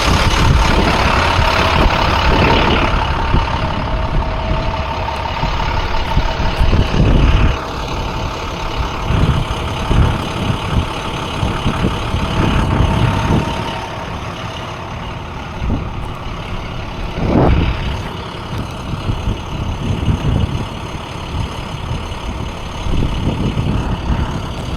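A Ford F450 tow truck with a utility body idles steadily, with a deep diesel rumble, loud and close, and a few brief surges over about 25 seconds.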